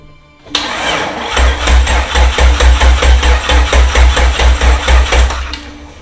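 A Jeep Cherokee XJ engine cranks loudly up close with a rapid, rhythmic chugging of the starter, then stops without firing.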